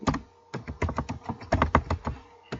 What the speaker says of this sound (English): We'll type in the same keyword,